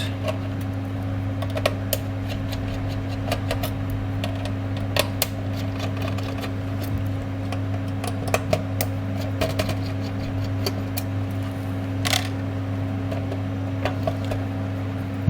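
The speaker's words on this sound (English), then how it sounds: "You open all the screws around it." Black screws are backed out around a PlayStation 5 disc drive, producing a run of small, close, irregular clicks and ticks from the screwdriver over a constant low electrical hum.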